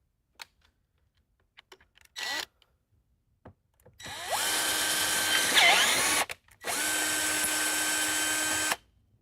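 A power drill whirs in two sustained bursts of several seconds each, preceded by a few faint clicks and a short rev, recorded close in a quiet workshop while working on spincast molds.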